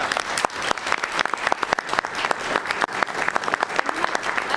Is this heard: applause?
yes